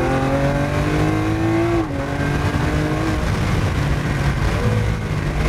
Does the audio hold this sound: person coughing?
no